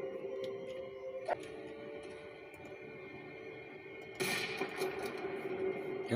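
A shotgun fires in the World War II shooter Medal of Honor, a sharp blast over low game ambience, followed by a louder burst of noisy action that continues to the end.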